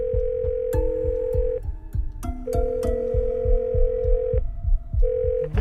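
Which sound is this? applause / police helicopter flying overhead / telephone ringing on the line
telephone ringing on the line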